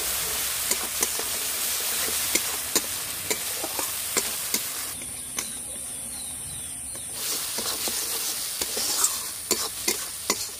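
Okra being stirred in a frying pan with salt and turmeric, a steady sizzle with repeated scraping and clinking strokes of a spatula against the pan, close and continuous.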